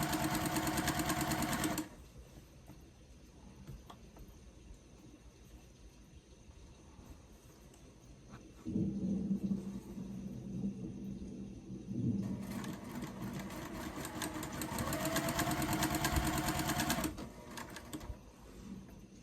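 A sewing machine stitches a quilt in bursts of rapid, steady whirring stitching, close by, with quieter pauses between runs where only faint handling noises remain.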